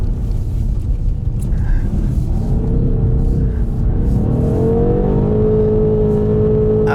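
A 530 hp BMW M850i xDrive Coupé accelerates hard on a track, its deep engine note rising steadily in pitch as the revs climb, loud and heard from inside the cabin.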